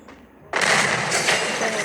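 Gunfire in the mobile shooter game Free Fire: after a brief quiet lead-in, a sudden loud, dense burst erupts and rolls on steadily to the end, with no voices over it.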